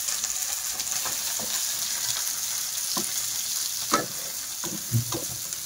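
Onions frying in hot oil for a homestyle chicken biryani, a steady close sizzle with occasional stirring scrapes and soft knocks rising above the constant crackle.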